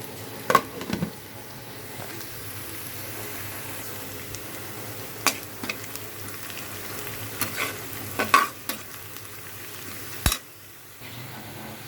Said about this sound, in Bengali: ভাজা হচ্ছে খিচুড়িটা